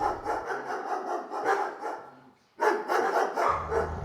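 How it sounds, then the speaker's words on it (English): Mean, hungry-looking dogs inside a cell snarl and growl in rough, close bursts, fairly loud, with a brief lull partway through before the snarling resumes. "Those dogs look awful mean."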